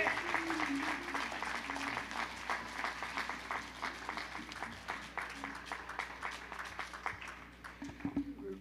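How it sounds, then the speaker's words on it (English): A church congregation at a live Antioch service in Augusta claps for the ushers, a dense, steady patter of hands lasting several seconds, with some voices mixed in underneath. "Give our ushers a hand clap of encouragement."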